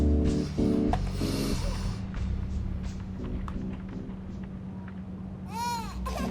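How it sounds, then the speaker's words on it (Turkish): An infant cries in the horror video game The Baby In Yellow, sobbing in short bursts near the start, then fading into soft game ambience and scuffs before a wailing swell near the end. "Uy ağla uyandı ya."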